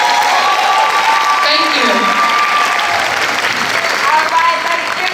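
A theater audience applauds loudly and steadily throughout, a dense, close wash of clapping with some cheering mixed in and a voice briefly speaking over it.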